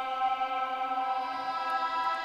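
Sustained synth drone from a second instance of the Chimera instrument in Decent Sampler, a steady harmonic-rich tone holding evenly throughout with no talk.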